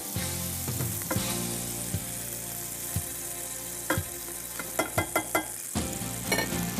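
Cod stew ingredients sauté in a pan with a steady close sizzle, broken by a series of sharp clinks and scrapes from stirring utensils against the pan.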